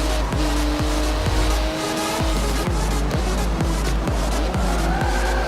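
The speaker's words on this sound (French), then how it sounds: "On va freiner un peu là." A Ferrari in the racing game Forza Motorsport 7 brakes hard, its engine note rising and falling through repeated downshifts while tires squeal. Loud and continuous, with rhythmic gear-change dips and no talk over it.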